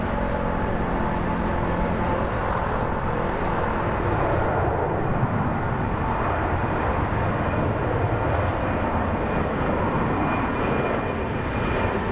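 Alitalia heavy airliner taking off from runway 24 left, a loud, continuous broadband jet roar filling the entire stretch without talk.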